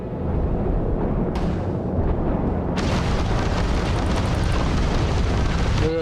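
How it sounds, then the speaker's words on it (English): Spaceship weapons fire in a space-combat video game, a dense, continuous roar of booming blasts and bursts that swells louder partway through and stays loud and close, with no voices. "Look at those weapons go."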